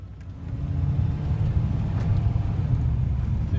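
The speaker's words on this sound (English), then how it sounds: "You can hear the engine. It's not overwhelming. Very pleasant." Steady low engine drone heard from inside a car cabin fitted with a cheap Walker Soundfit muffler, a smooth, moderate rumble at constant speed with no talk over it.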